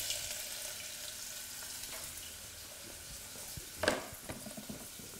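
Garlic frying in a pan for a prawn filling, a soft steady sizzle with stirring scrapes and a sharper clatter of utensil against the pan near the end, close and unaccompanied by talk.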